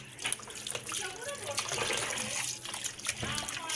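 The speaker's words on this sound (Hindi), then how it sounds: "तो जी मैं इस गोश्त को पहले धो लूँ, अच्छी तरह से साफ़ कर लूँ" Running water pours steadily as raw meat is washed by hand in a home kitchen, a continuous gushing splash from a tap with a voice talking over it.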